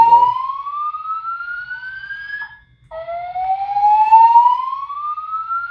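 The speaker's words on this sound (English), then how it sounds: "Fire alarm, guys." Indoor building fire alarm blaring loudly and close, two long rising siren sweeps separated by a short gap, with no voices over it.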